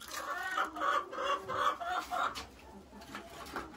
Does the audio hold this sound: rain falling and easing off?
no